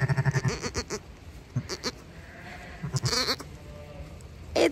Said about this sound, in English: Giddy ho, little lamb.